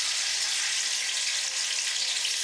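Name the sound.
tomatoes frying in hot oil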